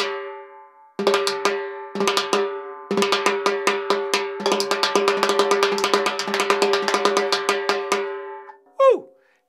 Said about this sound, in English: The rim shot sounds like this.